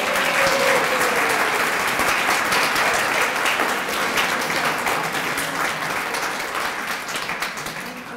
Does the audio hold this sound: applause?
yes